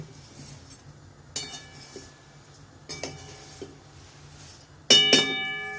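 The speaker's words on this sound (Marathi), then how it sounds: "झारा आणि पलेथा याच्या साह्याने मी ते असं मिक्स करणार आहे" Thin poha chivda is tossed by hand with a slotted ladle and spatula, giving a few sharp metallic clinks and scrapes against the pan at irregular intervals, the last one loudest, over a quiet background.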